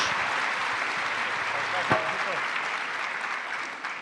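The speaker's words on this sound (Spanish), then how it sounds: "Reciban ustedes el aplauso y el reconocimiento de nuestra audiencia." Audience applause for insurance-sector panelists after a debate on data intelligence and sustainability, a steady dense wash of clapping filling the room for several seconds, with a brief voice heard partway through.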